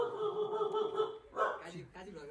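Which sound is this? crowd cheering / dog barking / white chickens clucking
dog barking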